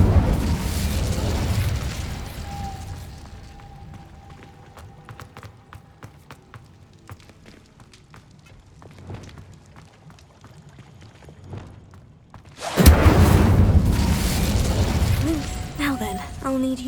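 An Incendio fire spell is cast in Hogwarts Legacy: a loud whooshing burst opens, fades into quieter game ambience with scattered clicks, then a second heavy roaring blast surges near the end.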